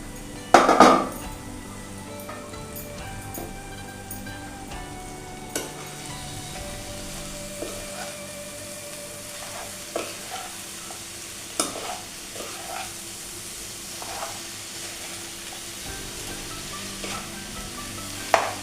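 Jackfruit vegetable stirred and frying in a pan, with scattered spoon scrapes and clinks against the metal over a low, steady sizzle; one louder clatter near the start, no voices.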